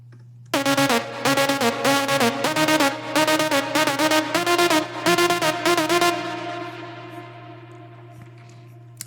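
Layered synth lead built from a Diva preset in Ableton Live, playing a rhythmic run of bright stabbed chords over a steady low drone, then ringing out and decaying alone.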